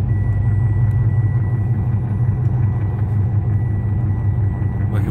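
A car engine rumbles steadily with tyre noise as it rolls closer, a continuous low drone holding at a fairly loud level throughout.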